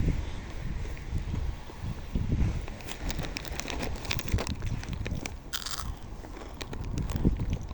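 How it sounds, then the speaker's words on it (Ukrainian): Dry rusks (sukhariki) crunched up close, a steady run of crisp bites and chewing over several seconds, with wind buffeting the microphone in the background. "Ну, дуже хрумчаш"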